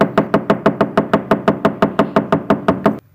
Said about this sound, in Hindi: वो थोड़ी देर तक दरवाज़ा खटखटाता रहा।